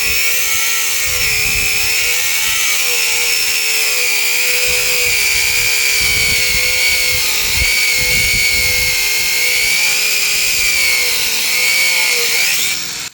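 An 18V Hychika cordless angle grinder running continuously at high speed, a loud, steady whine with slight pitch wobbles throughout, heard close and alone.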